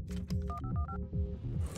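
In the video game Buckshot Roulette, a phone's dialing tones beep in a quick sequence of short pitched blips over a low, rhythmic game soundtrack.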